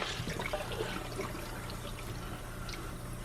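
Cold tap water runs steadily into a kitchen sink over a raw Thanksgiving turkey, a continuous close splashing wash with no pauses.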